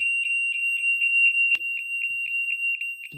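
A shrill 90-decibel electronic alarm, triggered manually, beeps in a rapid, steady pulsing pattern, loud and close, with a brief click partway through.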